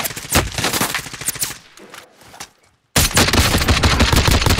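Rapid automatic gunfire in the video game Warzone, loud close bursts of rattling shots, a brief drop to near silence, then another dense burst of firing.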